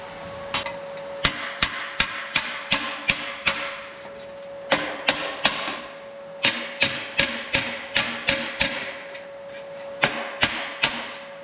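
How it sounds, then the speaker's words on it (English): Sharp metallic hammer strikes flattening sheet metal tinware for an air-cooled Volkswagen, in quick bursts of several blows separated by brief pauses, with a ringing tone lingering under each series. "now I'm going to hammer it a little bit because it's not quite flat everywhere"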